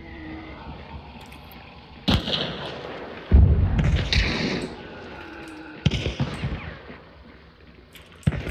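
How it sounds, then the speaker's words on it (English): Gunfire in the game Hunt: Showdown, a few distant sharp shots and booms spaced irregularly over a low background rumble, with no talking. "What are they shooting at?"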